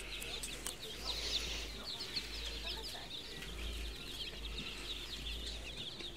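Baby chicks peep in a farm supply store at Easter, a soft chorus of high chirps running continuously under a low background hum, faint and somewhat distant.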